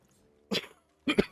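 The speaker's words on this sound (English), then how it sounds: "Sorry for coughing into the mic there." Two short, harsh coughs land close to a microphone, a brief one followed about half a second later by a louder double-barked cough, with near silence around them.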